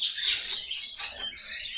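A caged pet bird, one of several hybrid finches kept at home, chirps in quick, bright bursts that run almost continuously, close and clear, with no talking.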